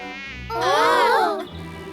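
Mosquitoes in a Hindi children's cartoon, a loud close whining buzz that swells, wavers in pitch for about a second, then fades, with a soft hum before and after.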